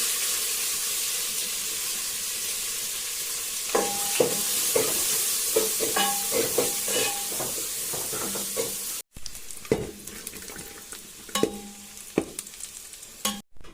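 Cashew nuts and raisins frying in a pan while being stirred, a soft continuous sizzle with repeated spoon scrapes and clinks, close and moderately quiet.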